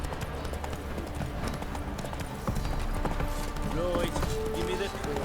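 A horse gallops in The Witcher 3: steady, rapid hoofbeats close by, with a voice speaking over them.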